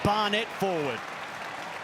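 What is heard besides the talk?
Newcastle crowd applauding a run in rugby league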